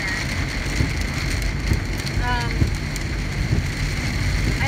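Rain falls steadily while driving, a dense hiss of drops on the car, loud and continuous, with faint scattered sounds over it.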